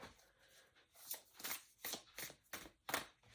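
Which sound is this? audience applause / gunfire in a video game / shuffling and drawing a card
shuffling and drawing a card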